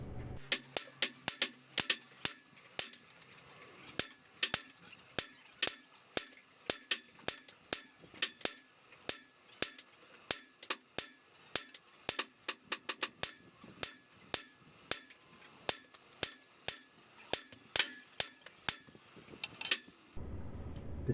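Shots from a CZ Scorpion EVO 3 S1 9mm blowback pistol fitted with a flash can, a long string of sharp, evenly spaced cracks firing in quick bursts, sped up, ending abruptly.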